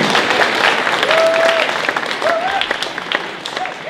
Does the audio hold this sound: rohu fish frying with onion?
no